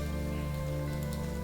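Steady rain falling in the video game Lucy Dreaming, a continuous even patter and hiss with a low background drone, no voices.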